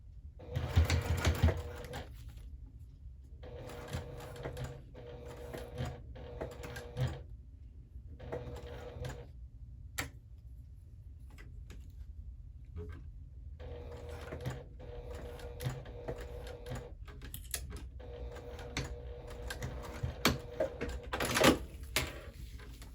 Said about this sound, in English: fold that back and top stitch